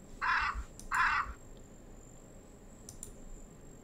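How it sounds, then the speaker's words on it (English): Crows caw in a garden within a detective video game: two loud harsh caws close together, then two fainter, more distant calls, all over a quiet ambient hum. "There are many crows in our garden."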